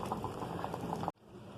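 Gongura dal (lentils) simmers in a clay pot, giving a close, soft bubbling and popping that stops abruptly and leaves a quieter hiss.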